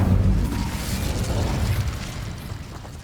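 An Incendio fire spell cast in Hogwarts Legacy erupts in a loud whooshing burst of flame with a rumbling low boom that slowly fades, a dense roaring blast with no talking over it.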